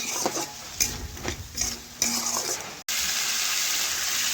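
A spoon stirs spices through hot oil in a frying pan for a pumpkin and katla fish head dish, scraping in uneven strokes over a constant sizzle that turns into a loud, steady hiss.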